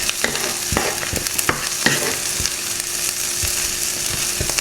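Garlic and onions frying in a pan with steady broadband sizzling, punctuated by repeated sharp scrapes and knocks of stirring, close and loud with no talking.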